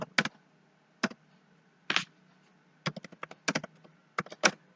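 Quiet typing on a computer keyboard comes in short irregular bursts of crisp key clicks separated by brief pauses, with no talk.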